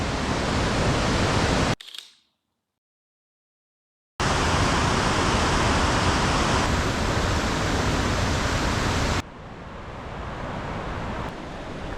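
Floodwater rushes through the river gorge at Fairy Glen in North Wales, a loud unbroken roar of white noise mixed with wind. It cuts out briefly, then returns and later drops to a somewhat softer, duller rush.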